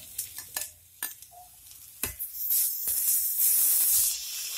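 Chopped tomatoes go into a pan of frying onions for a Kerala squid thoran, with a few sharp stirring knocks first, then a rising, steady close sizzle.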